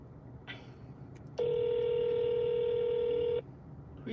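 A phone call ringing through on a mobile phone, a steady electronic ring tone holding for about two seconds after a brief beep, over a quiet background hiss.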